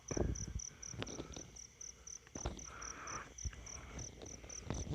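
Crickets chirp near a 12-volt light set out to lure insects at night, a steady pulsing trill running throughout with a few close knocks and rustles.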